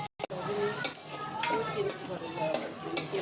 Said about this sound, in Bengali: তারপর পেঁয়াজ মরিচ এগুলা তেলে ভেজে নেব